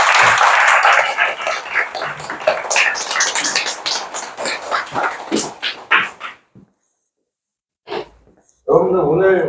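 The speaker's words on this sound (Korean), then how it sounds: "큰 박수 부탁드립니다" A lecture crowd bursts into dense, close clapping for several seconds that tapers into silence, followed by brief sounds and a short stretch of talk at the end.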